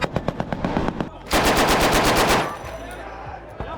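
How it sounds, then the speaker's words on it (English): Gunfire rings out inside a building in snowy conditions: a few sharp separate shots, then a dense rapid burst of machine-gun fire lasting about a second, loud and close, fading into echo and rumble. "Can hear gunshots in there."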